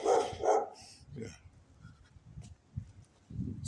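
A big dog barks twice in quick, loud bursts close by, then gives softer whimpers and low grunts, ending with a rougher bark.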